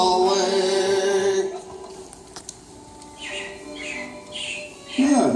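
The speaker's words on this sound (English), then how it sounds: "it looks like the Robins are getting ready to celebrate Valentine's Day today" Robins chirping inside the Carousel of Progress attraction, a few bright tweets and whistled calls at moderate volume, mixed with fading music at the start and background sounds.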